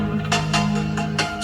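Full-range car audio speakers in a 6-way active system play music with the subwoofer off, giving a thin, bass-light sound with steady tones and rhythmic high-frequency hits, loud and continuous for a short moment.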